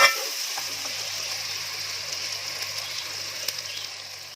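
Masala with salt and red chillies stirred and frying in a pan, a steady close sizzle with light scraping of the spoon throughout.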